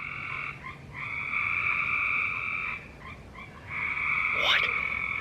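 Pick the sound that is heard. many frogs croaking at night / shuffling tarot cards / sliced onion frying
many frogs croaking at night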